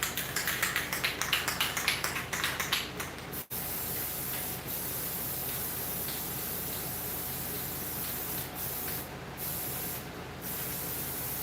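An aerosol can sprays a glossy coat onto a painted werewolf mask in a rapid series of short, close hissing bursts, followed by a quieter steady hiss with a couple of brief bursts near the end.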